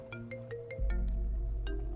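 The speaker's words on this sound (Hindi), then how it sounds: "राणा, ये तुम्हें क्यों फोन कर रहा है?" A mobile phone rings in a short burst of repeated electronic tones over a low steady hum, close and fairly loud.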